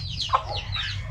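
Chicken clucks come in short, close, bright bursts over a steady low background hum.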